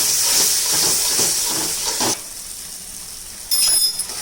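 Water splashed into hot frying masala in a pan for a green chickpea curry, a loud sizzling hiss that fades after two seconds, then flares up again briefly near the end.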